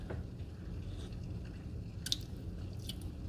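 Someone chews on a scoop of tomato salsa dip, soft wet mouth sounds close up with a couple of brief sharper crunches.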